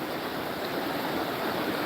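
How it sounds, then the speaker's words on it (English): Steady, full rushing of river water on the Salmon River at Pulaski, New York, a continuous close wash of flowing current with no breaks and no voices. "sound of the water here as we get ready to start fishing."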